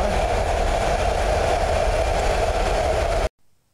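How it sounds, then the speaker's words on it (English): A train roars past close by during late-season ice fishing with a loud, steady rumble and rattle of wheels, then cuts off abruptly to near silence. "And the train's going by."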